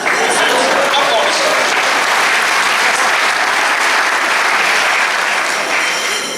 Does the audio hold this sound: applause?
yes